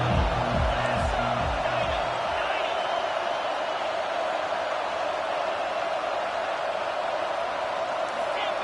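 A college football stadium crowd roars during a big third down, a dense, steady wash of noise that holds without a break while a voice talks over it.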